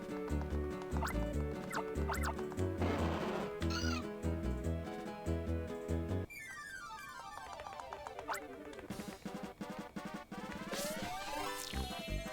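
Skitty, a cat Pokémon, crying repeatedly in the video game Pokémon Ranger, synthesized chirpy meows over looping game music and sound effects, with the music shifting midway.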